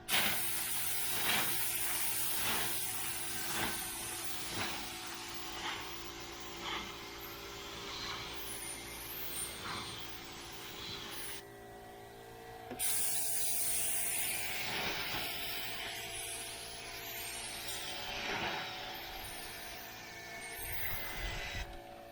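A spray gun sprays primer in repeated hissing bursts of varying length amid a noisy workshop, with brief pauses between passes, on a 1976 El Camino, the gun spraying poorly.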